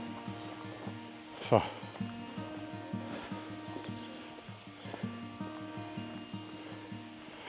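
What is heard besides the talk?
waterfall water splashing in the distance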